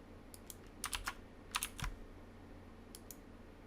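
Someone types on a computer keyboard in a few separate quick bursts of light clicks with short pauses between them, close and quiet, with no speech.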